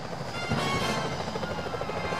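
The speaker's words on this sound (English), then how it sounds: "Those security choppers are bad news." Security helicopters in the video game Sly Cooper: Thieves in Time, a steady, close rotor drone with fast rhythmic chopping and no talk.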